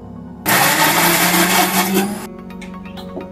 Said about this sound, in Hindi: उसे हम लोग मिक्सी जार में बारीक पीस लेते हैं